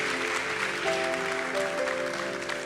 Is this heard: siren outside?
no